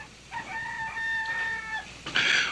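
A single rooster crows in a drawn-out, wavering call, followed by a brief harsher squawk, heard close and fairly clear.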